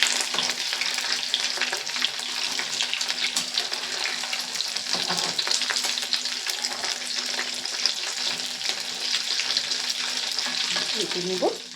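Rice pakoras deep-frying in hot oil, a dense continuous close sizzle with scraping stirs and light clinks near the end, no one talking.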